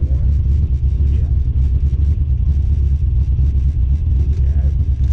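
A warm motorcycle engine idles steadily through a hard tire test, giving a continuous low rumble that stays loud and close from start to finish, with voices talking over it.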